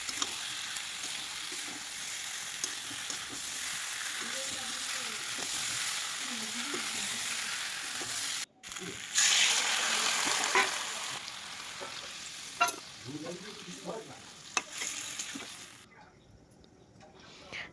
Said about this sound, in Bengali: দিয়ে নাড়িয়ে চাড়িয়ে ওই ভাজা আলুগুলোকে দিয়ে দিলাম।